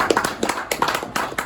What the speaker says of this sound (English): Another round of applause for our great Senate member,